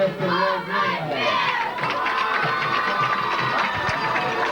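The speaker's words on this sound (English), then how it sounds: "Let's have a big round of applause for Roy Bruno." A crowd at Wayne Hills Stadium, a high school football field, in 1997 cheers and claps in a loud, continuous wash of shouts that carries through the whole moment.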